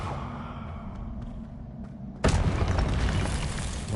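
The Confringo fire spell explodes in a video game with a sudden loud boom, then a dense roaring blast continues for a couple of seconds after quieter ambient sound.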